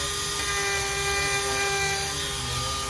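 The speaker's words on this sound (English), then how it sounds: "So we're just scraping out the defect we found in the rudder." A Dremel rotary tool scrapes out a defect in the rudder of a 50-year-old yacht, giving a steady high-pitched whine that holds evenly for about three seconds at moderate loudness with no talking.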